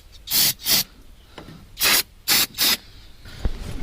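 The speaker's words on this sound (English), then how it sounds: "Shoot some of this trusty starter fluid straight into the intakes." Starter fluid sprayed into the carburetor intakes of a 1974 MGB, five sharp hissing bursts in pairs, close and loud, with a faint click near the end.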